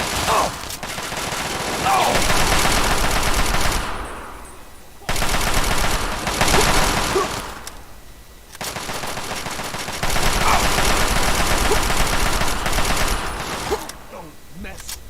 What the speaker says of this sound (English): It's like a gun is shooting stuff.